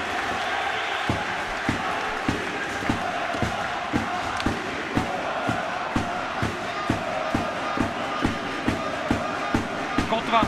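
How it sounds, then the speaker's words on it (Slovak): Home crowd at an ice hockey game in Liptovský Mikuláš, a loud continuous roar of cheering and applause with regular sharp thuds and bangs punctuating it, under a commentator's voice. "A Kryška si teraz vyslúži obrovský aplauz."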